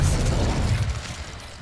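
A spell blast from the Hogwarts Legacy video game, the Expelliarmus disarming charm, heard as a loud, deep booming burst with a rumbling tail that fades over a second or so, with no talking.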